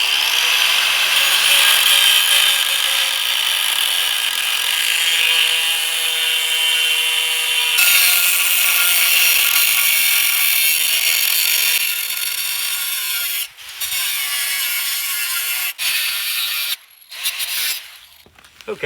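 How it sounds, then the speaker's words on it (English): A cutoff wheel on an angle grinder scores a light line across heavy-duty steel for a compact fire pit, giving a loud, steady abrasive whine that holds for most of the span before brief stops and restarts near the end. "we'll take a cutoff wheel on the grinder, we'll make a light score along there"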